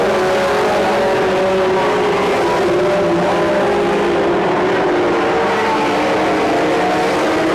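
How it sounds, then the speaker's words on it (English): Mini stock race cars, including a Toyota Celica, roaring around Petaluma Speedway, a loud continuous engine drone with revving as the field races through the turns. "look at the horsepower in that Toyota Celica of the 32, Sean Hale."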